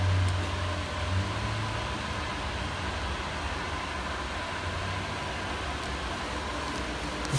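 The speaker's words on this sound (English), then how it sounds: "Sorry for the noise, it's a fan" An electric fan runs in an apartment bedroom, a steady close broadband whoosh with a low hum that stays constant throughout, with no voices.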